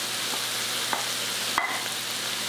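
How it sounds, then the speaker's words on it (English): Pork sizzles in a pan as grated ginger and garlic are stirred in, a constant bright frying hiss with a couple of soft scraping stirs and a brief clatter of the utensil against the pan. "Stir that in."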